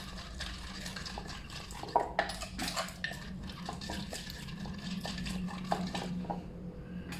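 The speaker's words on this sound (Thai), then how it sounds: "น้ำตาล คนอย่างนี้ก่อนนะครับ" A spoon stirs sugar into som tam dressing, a run of soft scraping and clinking strokes against a bowl in an uneven rhythm, close and fairly quiet.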